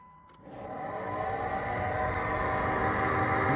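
Failing heater blower motor bearing in a 2008 Jeep Liberty, a steady whirring drone with a high whine that winds up and holds loud and close throughout, with no talk.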